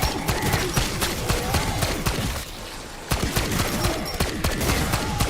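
Tsarkov 7.62 firing in Black Ops 6 Zombies: loud, rapid heavy gunshots in continuous bursts with a short pause midway, close and dominant.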